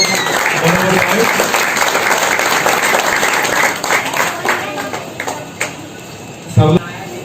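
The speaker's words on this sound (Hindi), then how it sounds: "जोरदार तालियों से सेवादारों को" An audience at a Baba Gorakhnath Dhuna ashram ceremony claps loudly to honour volunteers, a dense sustained burst of applause that thins into scattered claps toward the end.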